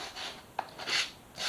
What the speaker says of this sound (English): Now I'm using this smoother, finer grit sandpaper.